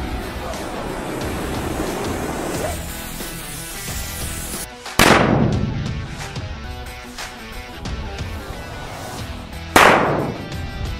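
Firecrackers set off in gasoline, two sharp loud bangs a few seconds apart, each dying into a rumbling tail, with crackling and outdoor noise in between.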